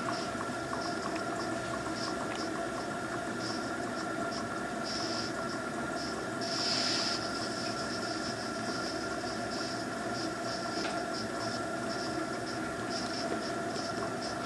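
A Cotswold Heritage Perseus model steam engine runs with a continuous close hiss and a fast, even mechanical ticking. The sound stays steady throughout with one brief louder puff midway.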